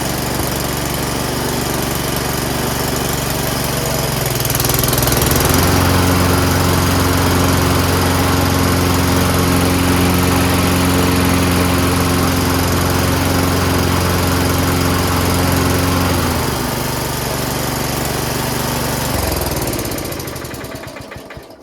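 A Craftsman LT1000 lawn tractor engine runs loud and close, its pitch and load rising slightly as the blade engages, then settling into a steady drone before easing off near the end.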